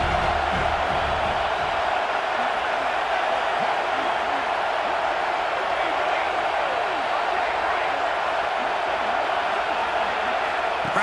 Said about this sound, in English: Crowd trying to help out here on 4th down.